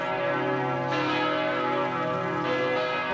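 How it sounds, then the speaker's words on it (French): Church bells ring in unison at 11 o'clock at Easter, with rich sustained tones, two strikes blending into a continuous resonant peal that fills the space. "les cloches des églises sonneront à l'unisson"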